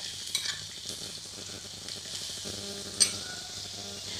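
Cumin seeds and finely chopped onion crackle in two tablespoons of hot oil with a steady close sizzle and a few sharp pops, and there is no talking.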